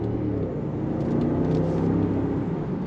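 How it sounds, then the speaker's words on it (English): A 2023 Range Rover LWB P530 SUV pulling away, its engine a steady low rumble and whir that swells slightly as it accelerates, heard from inside with no talk. "But pulling out, nice throttle response."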